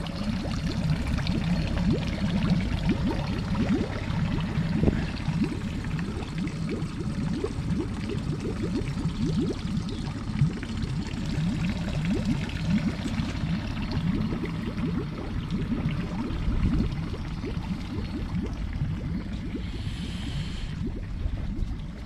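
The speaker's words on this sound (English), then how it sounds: "that's the used up water coming out" Cooling water from an outboard boat engine on a canal pours out in a steady, continuous splashing stream, close and unbroken throughout with no talk.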